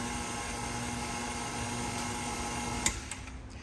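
An electric mixer blending flour into lemon blueberry cake batter gives off a steady, close motor whir that holds evenly for several seconds, with a brief clatter near the end and no talking.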